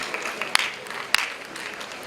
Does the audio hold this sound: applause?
yes